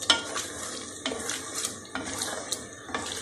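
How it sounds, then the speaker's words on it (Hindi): Tomato masala frying in a pan, a bright sizzle broken by repeated scraping stirs every second or so, close and fairly loud with no talking. "अच्छी तरह भून लूँ मसाला"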